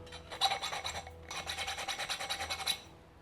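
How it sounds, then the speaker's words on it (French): A hand file rasps across hardened, heat-treated steel on a blade blank, a quick series of bright, scratchy back-and-forth strokes with a brief pause between two bursts, close and alone. "Là, si j'ai envie de mettre un coup de lime,"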